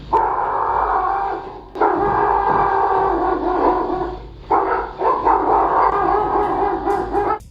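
Several neighborhood dogs bark continuously at night over a steady background din, the barking overlapping and persistent throughout, moderately loud and somewhat distant.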